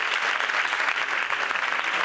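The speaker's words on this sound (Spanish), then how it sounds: "pero le damos un aplauso, ¿no?" Carnival proclamation audience at San Roque gives a sustained round of applause, dense and continuous clapping from a sizable crowd without pause.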